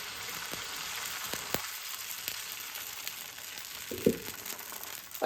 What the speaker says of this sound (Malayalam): അപ്പം നമുക്ക് ഈ ഫ്രൈ പാനിനകത്താണെങ്കിൽ 3 എണ്ണം ഉണ്ടാക്കാൻ പറ്റുമേ.